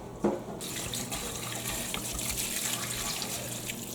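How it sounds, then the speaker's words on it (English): Tap water runs steadily into a pot of turkey soup made with bones, a continuous close hiss and gurgle that starts with a brief splash and carries on alone. "Just a little bit more water in here."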